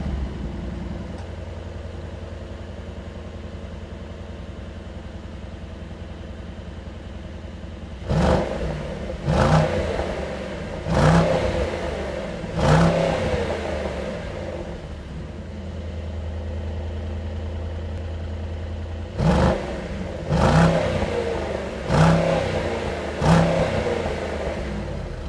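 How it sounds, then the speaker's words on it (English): A Mercedes-AMG SL55 with a 4-liter engine idles steadily, then revs sharply in two bursts of several quick throttle blips each, loud and close, settling back to idle between them. "take a listen to what this 4-liter sounds like"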